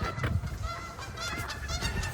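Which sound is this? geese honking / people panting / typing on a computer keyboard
geese honking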